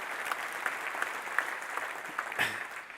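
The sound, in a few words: conference audience applause for sponsors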